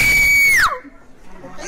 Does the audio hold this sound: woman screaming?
yes